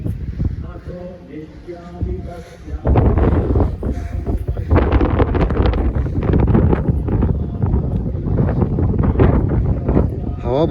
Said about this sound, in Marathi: हवा भरपूर आहे त्याच्यामुळे हवेचा आवाज तुम्हाला कदाचित बॅकग्राऊंडमध्ये येईल